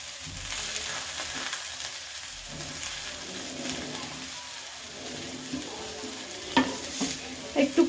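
Grass pea (khesari) greens are stir-fried in a pan, giving a continuous sizzle under repeated stirring and scraping, with a few sharper utensil knocks near the end.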